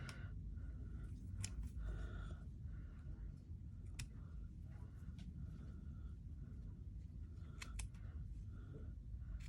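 Scissors cut paper for vintage journal tags, faint crisp snips and clicks repeating irregularly over a low room rumble, close but quiet.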